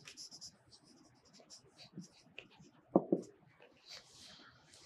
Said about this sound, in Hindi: इसके अलावा डेमोग्राफिक यानी कि हेडिंग लिख देता हूं